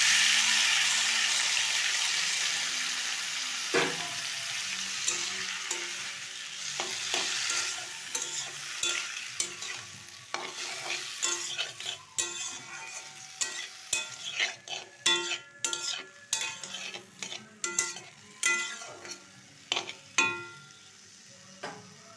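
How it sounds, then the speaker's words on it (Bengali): Potato and carrot chunks coated in salt and turmeric hit hot oil with cumin seeds in a pan, a steady sizzle that fades while repeated scraping stir strokes grow busier and louder toward the end; no voices. "এরপর নুন হলুদ মাখিয়ে রাখা আলু আর গাজরটা দিয়ে দেবো।"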